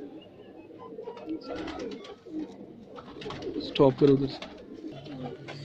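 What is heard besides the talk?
pigeons cooing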